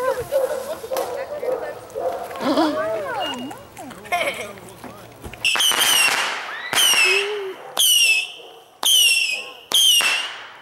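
Roman candle fireworks set off on the Fourth of July fire five or six loud, evenly spaced whooshing shots with whistling tails, after people's voices and a dog's excited yelps at the start.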